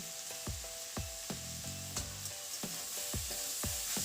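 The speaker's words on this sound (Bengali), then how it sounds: "এখন পেঁয়াজটাকে বেশ কিছুক্ষণ খুব ভালোভাবে ভেজে নেব।" Onions sizzle steadily in a pan with salt added, cooked for an egg posto dish, while a utensil scrapes and stirs in a regular rhythm about twice a second, close and clear with no voices.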